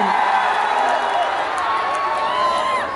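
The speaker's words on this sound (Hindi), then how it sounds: "जोरदार तालियां आपके लिए" An audience at a crowded evening show at Charminar claps and cheers in a dense, loud roar of applause with scattered whoops that holds steady throughout.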